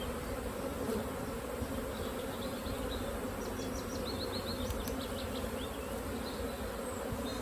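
Honey bees buzz steadily at an open hive during a colony split, a dense continuous hum with scattered higher whines of individual bees flying close by, and no voices.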